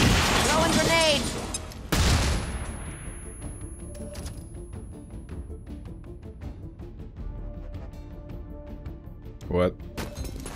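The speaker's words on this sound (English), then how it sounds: "Throwing grenade!" A grenade thrown in XCOM Chimera Squad bursts with a loud, booming blast, followed by a ringing, crackling tail and scattered debris clatter that fades, with game voices heard along the way.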